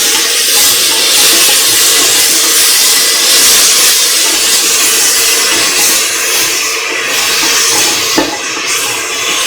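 Garlic potato rice with tomato and green chilies being stirred in a pan, a steady sizzling hiss throughout with faint scraping, no voices.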